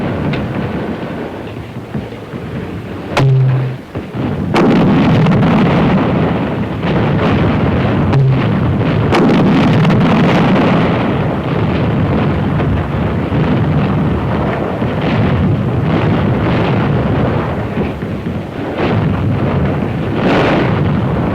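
Mortar firing smoke rounds at charge 1 in a World War II infantry action, with a sharp report followed by sustained loud rumbling and booming blasts over a continuous roar, with no talk.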